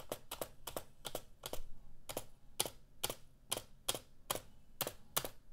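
Steady typing on a Redragon K512 Shiva mechanical keyboard, a run of crisp, clacky keystrokes at an even, moderate pace, close and fairly loud with no talking.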